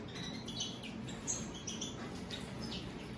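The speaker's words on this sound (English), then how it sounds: "2020 goldfinches, baby goldfinches." Baby goldfinches chirping in the molting season, a run of thin high tweets scattered over soft background noise, fairly quiet and close.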